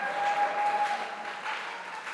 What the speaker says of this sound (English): give those individuals a round of applause